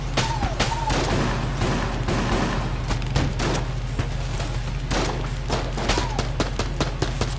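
Rapid gunfire in the twin-stick game Enter the Gungeon during bullet time after a table flip, a dense stream of sharp shots crackling steadily over a low droning music bed, with no talking.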